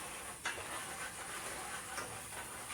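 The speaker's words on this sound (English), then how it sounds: "Eggs are almost finished cooking." Eggs cooking in a pan for a slow-cooker Sunday dinner give off a steady, even sizzle and hiss that holds at a moderate level throughout, with no talking.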